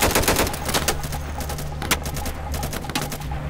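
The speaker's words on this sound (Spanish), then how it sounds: "Escucho disparos por todos lados" Rapid bursts of video game gunfire crackle repeatedly over a steady low hum, loud and close, with scattered sharp shots throughout.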